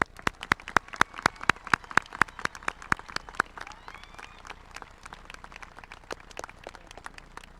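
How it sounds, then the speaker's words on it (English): Sparse, spread-out clapping from an audience at a high school graduation ceremony honoring retirees, with distinct individual claps in a loose rhythm that thins out toward the end, heard at moderate distance. "Please join me in a round of applause for all of these retirees."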